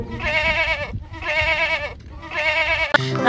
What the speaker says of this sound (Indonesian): Lalu ada seekor kambing teman-teman.